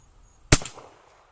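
A single loud, sharp gunshot from Remington factory-loaded .44 Magnum ammunition cracks out close by, followed by a short decaying echo, with no talk.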